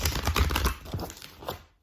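Tarot cards get a quick shuffle, a brief burst of close crisp riffling and rustling that is busy at first, then thins into a few soft flicks before fading out, with no talking.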